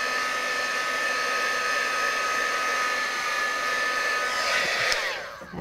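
A heat tool blows steadily over wet ink on a handmade card, a loud continuous fan whir with a high whine that cuts off abruptly near the end.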